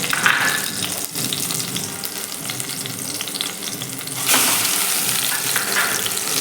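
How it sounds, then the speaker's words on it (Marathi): Chopped amla (Indian gooseberry) sautéing in ghee over a low flame, a loud, steady close sizzle with stirring scrapes, briefly fading and then swelling again. "तुपावरती आपल्याला एक मिनिटभर छान असं हे परतून घ्यायचं आहे"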